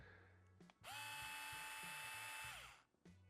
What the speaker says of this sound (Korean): 우리가 5Nm급 하는 원통형 드라이버 돌아가는 소리가 나요